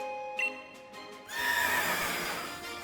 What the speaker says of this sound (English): It's the Pokemon! It's the horse!